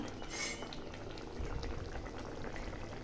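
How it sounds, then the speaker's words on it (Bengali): Fish curry gravy bubbles steadily in a pot, a continuous close boiling hiss and burble with no talking. "এখন একটু জল দিয়ে দিলাম। দেখো ঝোলটা ফুটে গেছে।"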